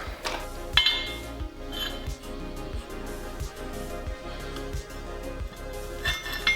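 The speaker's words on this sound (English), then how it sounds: "After a fair bit of prying, the end cap finally gave in." A tool pries a stuck end cap out of a metal BMX handlebar, giving a series of sharp metallic clinks and taps at irregular intervals, close up, with no talking.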